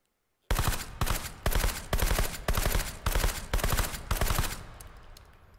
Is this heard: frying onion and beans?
no